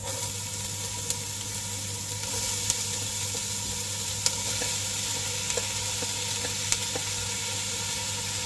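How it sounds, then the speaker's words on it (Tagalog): Garlic sautéing in a pan as the start of ginataang laing, giving a steady, even sizzle close by with occasional faint crackles and ticks, no voices. "So, unahin muna natin igisa ang bawang"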